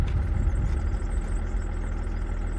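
A BMW E46 330cd diesel engine idles steadily after starting, with a low, close, continuous clatter and rumble throughout and no talk over it; the gearbox has a little play.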